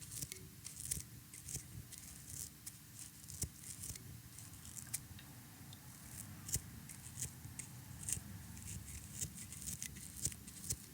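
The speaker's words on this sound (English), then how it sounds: "we'll just rest our scissors on the foam, angling it downwards towards our tail, and trimming it up slowly" Scissors snip quietly and repeatedly at foam on a small micro popper fly, producing faint, irregular crisp clicks over a low background hum.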